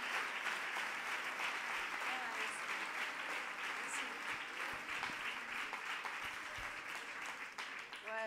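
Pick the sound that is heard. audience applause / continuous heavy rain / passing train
audience applause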